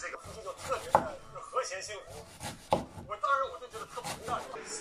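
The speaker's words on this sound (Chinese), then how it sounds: "牛骨髓切成片" A knife slices beef bone marrow on a cutting board, a series of irregular close chopping cuts and scrapes with no talking.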